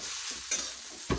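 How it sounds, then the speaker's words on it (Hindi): Poha stirred in a pan with roasted chana and sev namkeen, two soft scraping strokes against a faint background sizzle. "ये देखिए हमने मिक्स कर लिया अच्छे से इसको।"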